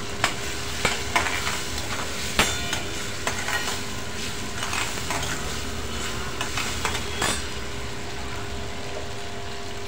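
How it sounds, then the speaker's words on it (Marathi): Two finely chopped tomatoes sauté in a pan for a spicy chana chaat. A continuous sizzle carries irregular scraping and knocking from a stirring spoon, with no voice. "त्यानंतर 2 टमाटे बारीक चिरून घातलेले आहे, तो परतून घेणार आहोत छानपैकी"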